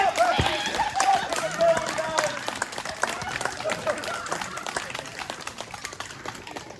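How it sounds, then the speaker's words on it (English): Applause and clapping from an auction crowd welcoming the new purchaser of a Burwood house, a dense patter of claps with murmuring voices mixed in, fading gradually. "please give a round of applause to the new purchaser"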